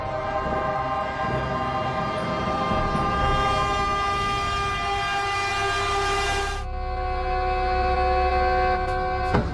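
A train rumbles close by while a loud, sustained horn blares over it, cutting off briefly before sounding again.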